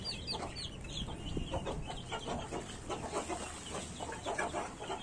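Chickens cluck and chatter in short bursts against a busy farmyard background, with a few higher bird calls; the clucking is steady and moderately close.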